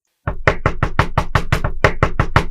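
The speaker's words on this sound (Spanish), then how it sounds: "Se le hizo extraño oír que tocaban a su puerta." Knuckles rapping on a house door early in the morning, a steady run of about a dozen sharp, loud knocks in quick succession, close by and with no voices.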